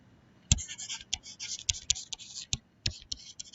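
Pen scratching out a ratio during a genetics lesson: close, irregular strokes and taps in quick bursts with short pauses between, no talking.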